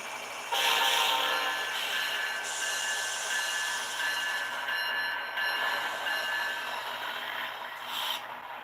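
Steady mechanical whirring hum of a model train locomotive's small motor running continuously, with a faint high squeal and slight changes in pitch.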